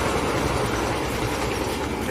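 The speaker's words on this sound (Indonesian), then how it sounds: "Itu ada kereta ya." Train rushing past close by next to a cemetery, a loud steady rumble and roar that fills the whole short stretch without pause.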